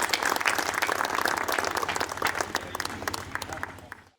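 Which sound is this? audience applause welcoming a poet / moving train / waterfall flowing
audience applause welcoming a poet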